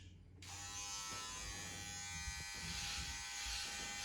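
An electric hair clipper hums steadily during a haircut, switching on sharply after a brief quiet moment and then buzzing close and continuous with small handling bumps underneath.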